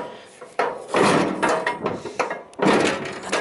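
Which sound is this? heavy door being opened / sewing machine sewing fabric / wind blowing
heavy door being opened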